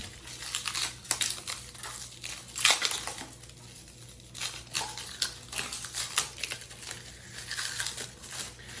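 Cardboard or plastic mail packaging holding sports cards is torn and crinkled open, with repeated close crackling rips and crumpling bursts of varying loudness and no talk.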